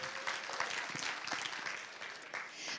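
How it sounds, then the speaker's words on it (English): A church congregation breaks into applause for a visiting woman, a steady wash of many hands clapping at moderate volume, with no talk over it. "Let's give her a round of applause."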